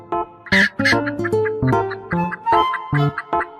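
A farm chicken clucks close by in a quick run of about a dozen short, choppy calls, some higher and squawkier than others, with nothing else heard around them.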